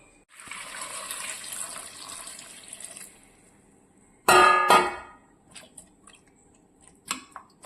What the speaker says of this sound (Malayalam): കഴുകി ഇനി ഒരു കുക്കറിലോട്ട് അകപ്പിന് വെള്ളം ഒഴിച്ച് നമുക്കങ്ങോട്ട് വയ്ക്കാം